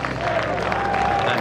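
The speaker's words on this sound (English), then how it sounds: "We apologise for the fruity language as the crowd serenades Roy Kent with a song that's echoed through the Premier League for more than a decade." Football stadium crowd singing the Roy Kent chant, a dense sustained mass of voices with steady tonal singing and clapping, loud and continuous throughout.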